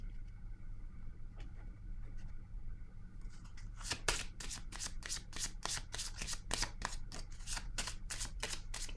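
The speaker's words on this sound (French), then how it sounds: "Je vais déposer une carte ici." Tarot cards shuffled by hand at close range, a rapid series of crisp riffling bursts that starts after a quiet opening and continues in a steady rhythm, with no talk.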